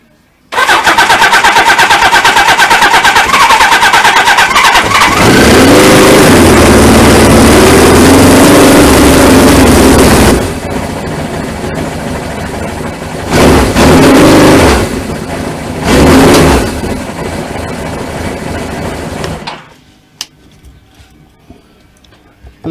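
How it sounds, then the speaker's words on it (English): A Suzuki GS1000 motorcycle engine cranks and fires up loudly, revving hard before settling into a rough, steady idle with a couple of throttle blips, then cutting off abruptly. "Won't find out till I start the engine."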